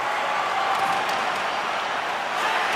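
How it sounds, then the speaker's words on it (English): A crowd applauding at a Roblox hockey game, a continuous, even wash of clapping and cheering with no pauses. "And the crowd's on their feet, saluting the team after a hard-fought effort this evening."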